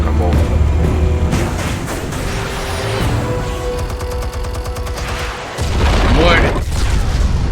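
Explosions and heavy gunfire in the Batman Telltale Series video game, a loud, dense run of booms and rapid bursts with a rumbling swell near the end, mixed with game voices and music.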